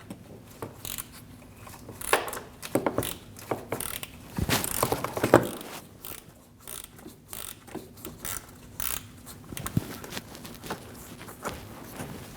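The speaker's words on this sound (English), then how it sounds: "Using a T30 bit, we're going to remove the bottom screws for the radiator fan." A ratchet with a T30 bit backs out the radiator fan screws on a Volkswagen Passat, a close series of rapid clicking runs with brief pauses between them, repeating throughout, louder in the middle.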